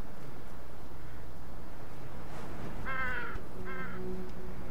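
A raven in a Game of Thrones video game caws twice, a harsh nearby call followed by a shorter second caw, over steady ambient hiss.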